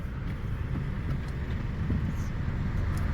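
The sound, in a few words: traffic noise on Sunset Boulevard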